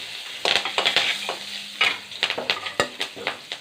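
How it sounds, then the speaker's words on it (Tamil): Green chillies and chana dal fry in hot oil for lemon rice, giving a steady close sizzle broken by a dozen or so sharp scraping stirs and spatters of a spoon in the pan, with no talking. "இப்போது பச்சை மிளகாய் போட்டுடலாம்."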